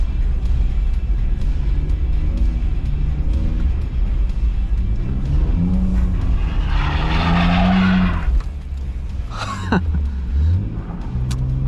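A BMW E46 spins a 360 drift on a winter night street, its engine droning steadily before rising tire squeal and revving take over near the car. A sharp screech follows as it finishes the spin.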